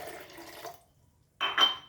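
Water poured from a glass into neer dosa batter, a close splashing pour that trails off, a brief silence, then a second louder gush of liquid.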